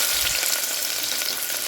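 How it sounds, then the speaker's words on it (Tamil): Onions dropped into hot oil in a pan with cashews for biryani, giving a loud, dense, continuous sizzle heard up close with no talking. "இப்போ நம்ம வெங்காயத்தை போட்டுக்கலாம்."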